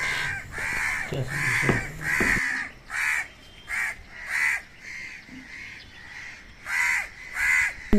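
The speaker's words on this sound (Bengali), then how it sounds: "সকালে ছাদে এসেই দেখতে পেলাম ছাদে কাকে কাকে লড়াই করছে" Crows fight on a rooftop at dawn, giving a run of loud, harsh caws in uneven bursts and overlapping calls, close to the listener.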